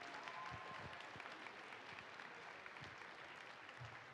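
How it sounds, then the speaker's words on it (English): Faint, distant applause from a crowd at a school awards ceremony, a soft steady patter of many hands heard from far back in the room. "give yourselves a round of applause"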